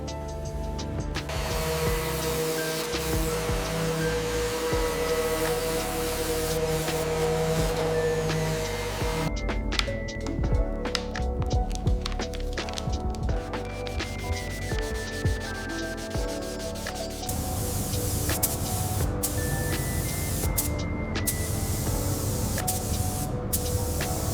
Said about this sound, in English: applying the deep gloss black in flawless, overlapping passes, ensuring a perfect mirror finish on the frame.